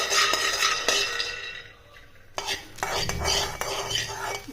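Wheat grains roasting in a pan are stirred with a metal spoon, giving close scraping and rattling strokes over a soft sizzle, with a brief quieter pause in the middle.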